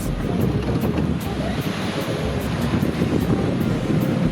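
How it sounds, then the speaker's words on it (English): A big ocean wave surges against a sailboat riding at anchor in strong sustained wind, a loud continuous rush of surf and gusting wind noise filling the clip without pause, no voices. "oh, big wave."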